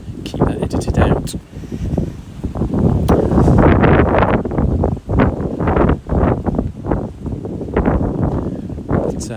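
Loud wind gusts batter the microphone outdoors on a rural walk in Somerset, a continuous low roar punctuated by irregular bursts and brief lulls throughout.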